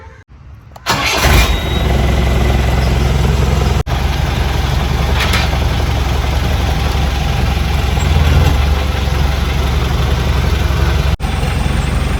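A vehicle engine catches with a brief starting burst, then runs at a loud, steady idle close by for about ten seconds, with no talking.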